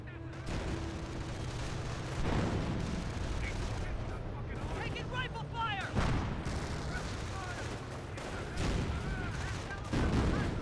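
Dense gunfire, shell blasts and stun grenade bursts from a Company of Heroes battle rattle continuously, with sharp overlapping cracks and booms throughout.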